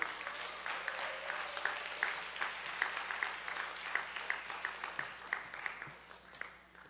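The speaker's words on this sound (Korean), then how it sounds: "박수로 맞아 주십시오." A church congregation at a Sunday service at Segyero Church claps to welcome a preacher to the pulpit. The claps are soft, slightly distant and individually distinct, forming a loose, fairly even patter that tapers off.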